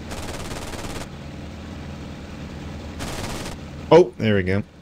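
In the flight sim IL-2 Sturmovik, rapid bursts of aircraft machine-gun fire rattle loudly for about a second, pause under engine drone, fire again, then two sharp heavier cannon blasts follow.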